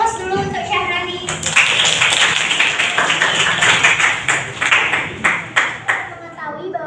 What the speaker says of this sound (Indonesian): Beri aplaus dulu untuk Syahrani.